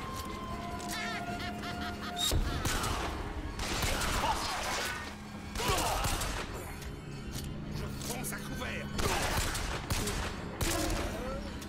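Gunfire in BioShock Infinite on PC, repeated shots in bursts across the span, fairly close, mixed with game effects and someone talking over them.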